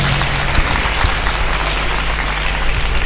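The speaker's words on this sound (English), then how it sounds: "Maybe we can give them one more time the big applause." Dense, steady audience applause at an 85th birthday celebration, a loud continuous wash of many hands clapping close by, with no talk over it.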